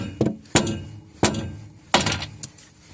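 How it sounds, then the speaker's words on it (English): A hammer taps new bearings into an old Mercedes-Benz MB 100 camper, four sharp metallic strikes spaced about half a second apart, close and ringing briefly, with no talking. "let's continue with the tapping."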